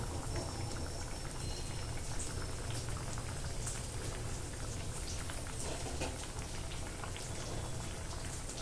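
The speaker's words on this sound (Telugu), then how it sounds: "చూస్తారు కదా కర్రీ ఎలా ఉడుకుతుందో" Bengali-style fish curry bubbles steadily in a pan, a dense, continuous fizzing and popping simmer that holds at an even loudness throughout, with no voices over it.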